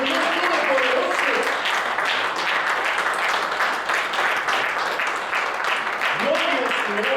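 Congregation applauding in church during worship, steady dense clapping throughout with a voice singing or calling out over it at times.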